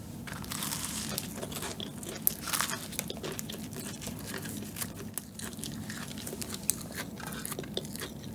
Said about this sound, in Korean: 제가 파이 만주부터 먹을게요